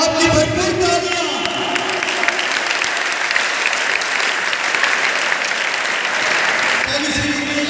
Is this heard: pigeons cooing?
no